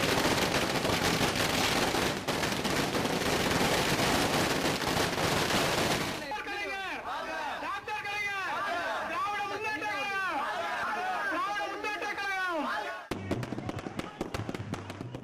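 Firecrackers burst in dense crackling volleys at a street birthday celebration with flag hoisting in Madurai, then give way to sharp separate pops near and far with people chattering around.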